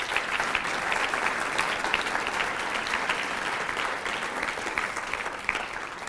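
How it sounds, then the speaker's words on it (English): An audience at a university student association inauguration ceremony applauds the event staff, a sustained, full round of clapping that stays steady and loud throughout with no speech over it. "May we please give them a round of applause."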